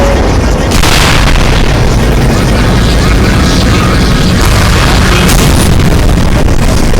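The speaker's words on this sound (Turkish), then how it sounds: "Bu bildiğimiz bomba atar." Loud grenade launcher fire and heavy explosions from a Skibidi Toilet animation, a dense continuous rumble of booms and bursts with no clear gaps between them.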